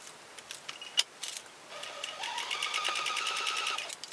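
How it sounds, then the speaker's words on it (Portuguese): Sewing machine stitching the corners of a fabric clutch bag, starting with a few clicks and short bursts before settling into a steady, close, rapid rattling run, with no one speaking. "dobro novamente e costuro nessa pontinha aqui e nessa pontinha aqui"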